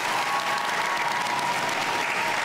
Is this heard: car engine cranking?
no